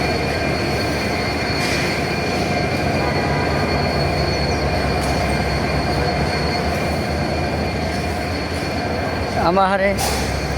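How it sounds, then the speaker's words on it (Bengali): A heavy train rumbles past continuously with a loud, steady roar of wagons on rails; near the end, a person speaks briefly over the noise. "এ বড় ট্রেন দেখছো না"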